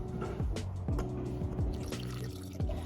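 Liquid poured into glassware during a school chemistry practical exam, a steady trickling and filling sound with repeated short gurgles, heard close up with no talk over it.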